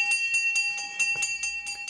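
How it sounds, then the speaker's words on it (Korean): A school bell rings for lunchtime at a school in a remote tundra region, sounding as a rapid, steady series of bright metallic strikes at moderate loudness with no voices over it. "점심시간을 알리는 종소리가 울립니다."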